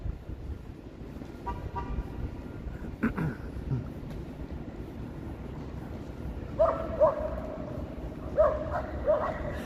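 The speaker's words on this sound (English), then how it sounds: "I hear some barking up ahead." A dog barks several times at a distance along a city street in Toronto, faint sharp yaps over steady traffic rumble, with a car horn or two sounding nearby.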